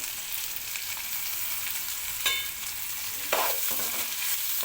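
Onions and ginger-garlic paste frying in a pan of oil for a bitter gourd curry: a steady close sizzle with a couple of brief stirring scrapes, no voices.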